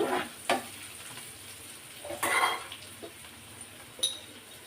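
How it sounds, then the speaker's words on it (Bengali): Onions and dried chillies frying in hot oil make a soft continuous sizzle, punctuated by several sharp spatula scrapes and clinks against the pan. "তেলটা গরম হওয়ার পরে আমি কিন্তু পেঁয়াজ আর শুকনো মরিচ ভাজা দিয়ে দিয়েছি"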